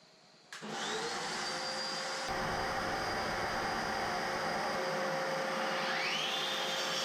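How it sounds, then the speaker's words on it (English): A hired floor grinder stripping the top layer off a tiled floor runs with its attached vacuum, starting abruptly and settling into a loud, steady whining roar with a faint rising pitch sweep, no voices. "I hired this grinder from Kennards and it came with a vacuum which attached to the grinder."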